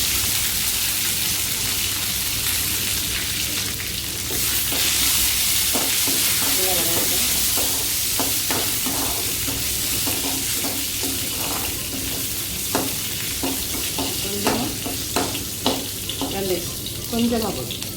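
Shallots frying in a curry-leaf tempering for vendakkai sambar, a steady dense sizzle of hot oil punctuated by scraping stirs and small crackles, close and continuous throughout.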